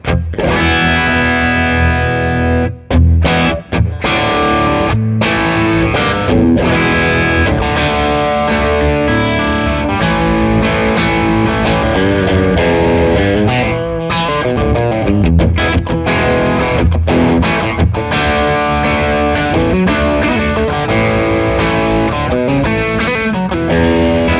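Loud, continuous electric guitar on the bridge pickup driven through a Wampler Tumnus overdrive pedal, thick crunchy chords played almost without pause.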